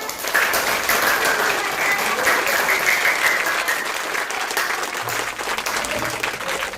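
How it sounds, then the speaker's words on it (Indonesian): A classroom group claps together in sustained, dense applause at a school economics discussion, steady and moderately loud for several seconds before thinning slightly near the end. "kasih aplaus kepada kita"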